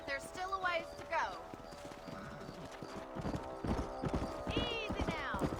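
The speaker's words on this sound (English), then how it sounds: "Let's get back on the horses and see what else is going on." Horses clip-clop at a gallop in the Western video game Red Dead Redemption, steady hoofbeats under music with a whinny or two and speech mixed in.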